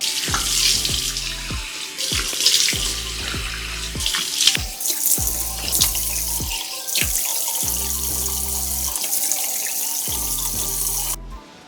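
Running tap water splashes steadily at a bathroom sink as a face is rinsed after lathering with foaming cleanser, with repeated splashing bursts and pauses in a close, continuous wash.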